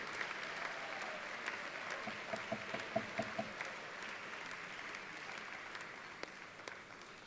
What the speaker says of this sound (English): Let's give all these guys, all 33 members, a nice round of applause.